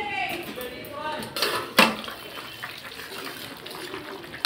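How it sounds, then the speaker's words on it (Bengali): Lid lifted off a pot of simmering fish curry with potatoes, a sharp metallic clank followed by soft bubbling and faint kitchen clatter, close and quiet. "2 মিনিট হয়ে গেছে, এবার ঢাকাটা খুলে দেখে নেব।"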